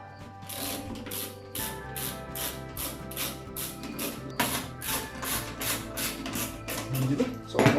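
Screws driven into a computer case during a PC build, with a quick regular train of ratcheting mechanical clicks over a faint hum, growing louder toward the end.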